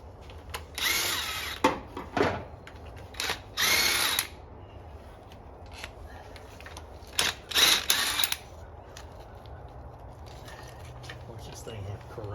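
An impact wrench fires several short, loud bursts during work on a 1985 Foxbody 5.0 V8, with pauses between them and a second cluster of bursts partway through, over a low hum of garage background noise and voices nearby.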